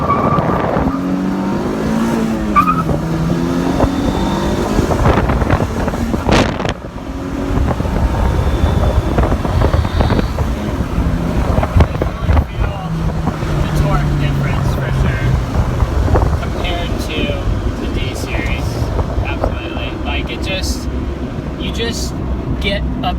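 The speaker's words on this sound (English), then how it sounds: "Just kind of rowing through the gears here." Honda Civic EG fitted with a B18B1 engine and a stock Integra shifter, on a track day, droning loudly up and down through the gears with wind buffeting the microphone; engine pitch rises and drops with each shift, and a person talks over it.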